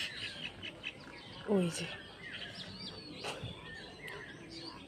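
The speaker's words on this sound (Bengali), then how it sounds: "শালিক পাখিগুলো দেখতে পাচ্ছে বন্ধুরা, কিরকম করছে, কি সুন্দর করে ডাকছে" Common myna birds call faintly from a rice field, with scattered chirps and one louder squawk. A person speaks quietly nearby.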